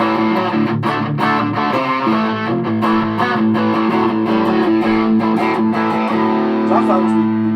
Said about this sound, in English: So this is it with full distortion on.